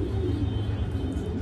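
A pigeon coos softly and low in a loft, a faint continuous murmur close by with no speech.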